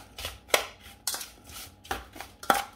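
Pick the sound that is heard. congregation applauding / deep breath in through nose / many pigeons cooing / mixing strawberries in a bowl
mixing strawberries in a bowl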